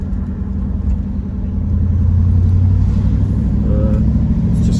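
A Triumph Stag runs on the road, its engine a steady, loud low rumble that swells slightly as it pulls along, with no talk over it.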